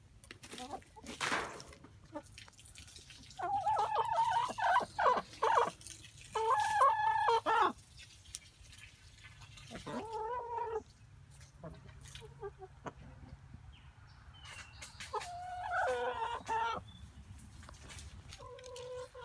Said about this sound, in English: These are my parents' chickens.